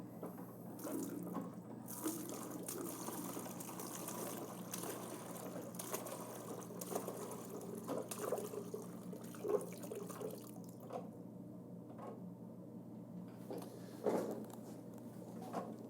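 Fluid streams from a Husky 1050e meter into a bucket during batch dispensing, a faint steady splashing pour with small irregular spatters throughout.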